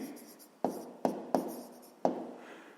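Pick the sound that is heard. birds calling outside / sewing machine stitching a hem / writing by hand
writing by hand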